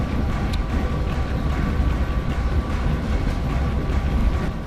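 Low, continuous train rumble from a scary train monster in a video game, a dense rolling roar with faint clattering, loud and close throughout, with no talking.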